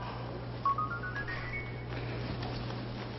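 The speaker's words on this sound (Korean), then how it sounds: "전화 왔다." A phone ringing indoors, a faint rising electronic melody of short ascending tones, followed by softer tonal chirps over a steady low hum.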